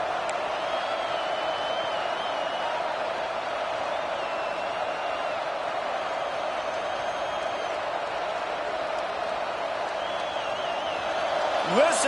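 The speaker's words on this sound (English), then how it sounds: "Listen to this crowd just shaking the girders of this place trying to help their defense" A large stadium crowd at an Ohio State at Florida football game roars continuously in a dense, steady wall of noise, with whistles cutting through and a commentator's voice faintly underneath.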